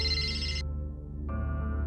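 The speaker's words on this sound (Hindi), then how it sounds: "ये इस वक्त किसका फोन आ गया?" A mobile phone ringtone plays loudly and steadily, an electronic melody that dips for a moment and then resumes. No voices are heard over it.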